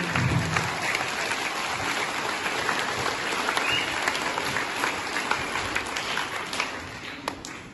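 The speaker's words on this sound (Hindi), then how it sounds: "एक बार सब लोग जोर से इनके लिए तालियां बजा दें" An audience applauds participants at a school Hindi poem recitation competition, with continuous, fairly even clapping from many hands that fills the room for several seconds without speech over it.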